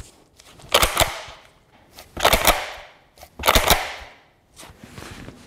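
Blaser R8 rifle with thumbhole stock worked through quick reloads, three loud close bursts of metallic clacking bolt action at a steady rhythm with short pauses between.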